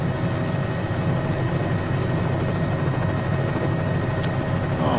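A helicopter in a flight simulator game, a SimPit Avenger setup flying a Cowan 206, gives a steady, loud low engine and rotor drone that holds evenly throughout with no voices.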